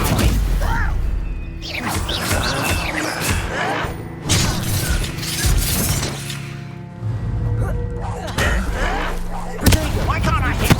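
Incendio fire spell cast during a Hogwarts Legacy duel, a burst of crackling, whooshing magical blasts and impacts recurring throughout amid dense combat noise, with voices talking over the fight.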